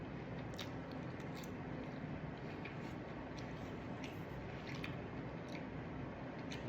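Seasoned broccoli is chewed up close during a mukbang dinner, with faint wet crunching bites over a constant hiss of background noise.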